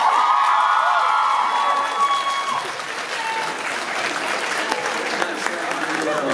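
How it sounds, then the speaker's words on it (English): A crowd at a convention opening ceremony applauds and cheers after a song, loud, dense clapping with shouts that gradually thins out, while a voice talks over the noise. "Let's hear another round of applause for that beautiful song."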